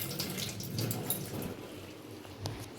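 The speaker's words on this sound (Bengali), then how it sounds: "দেখবে ও কী করছে, জল ঘাটছে" A small child splashing and stirring water with her hands, soft irregular sloshes and trickles, faint and close, with no talking.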